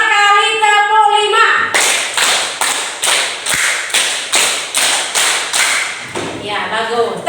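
Schoolchildren in an Indonesian primary classroom, standing up, clap in a steady rhythmic pattern of paired claps, about ten sharp, loud, evenly spaced beats. A teacher's voice is heard briefly before and after.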